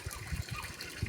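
Water gushes steadily from a well driven by a 2 hp screw-type submersible pump, a close, continuous rushing splash with low gurgling pulses throughout.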